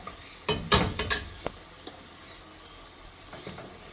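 A spoon clatters against a pot as tomatoes are stirred for pudina rice. A few sharp metallic knocks come close together, then lighter scrapes over a soft background sizzle.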